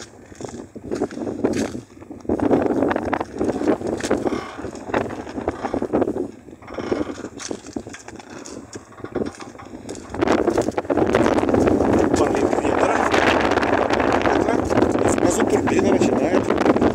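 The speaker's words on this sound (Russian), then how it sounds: "Вот смотрите, пошел порыв. Приличный порыв пошел. И турбина начинает вращение." Wind gusts sweep around a small home wind turbine at a newly built solar and wind power station in snowless winter, a voice talking over blustery microphone rumble that builds into a stronger, steady roar in the second half.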